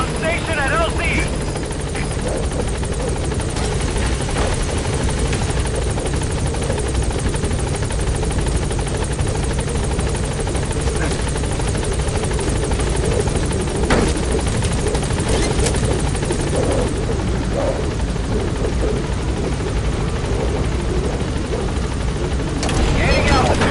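The Pequod helicopter from Metal Gear Solid drones steadily with loud, continuous rotor and engine noise at a landing zone, holding constant throughout with occasional voice chatter underneath.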